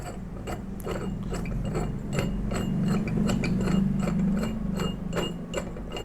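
A steel spindle is slid into a pipe vise and turned, giving a rapid run of metallic ratcheting clicks over a low mechanical hum, steady and close.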